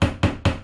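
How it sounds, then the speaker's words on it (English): A plastic wall plug is knocked into a drilled hole in bathroom tile, three quick, close, heavy thuds in a fast even rhythm, alone without talk. "So we'll just knock that through a little bit just before it goes through the back of the tile."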